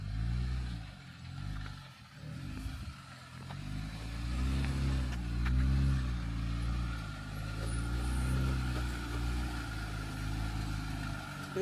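An off-road vehicle crawls through the V-notch on Poison Spider Trail, its engine rumbling low and close as it labors and revs unevenly, with faint scraping and clatter, and no talk.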